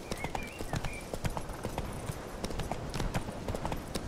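Rapid, rhythmic hoofbeats of a horse galloping in the video game The Witcher 3: Wild Hunt, Hearts of Stone, quiet and steady, clattering continuously throughout.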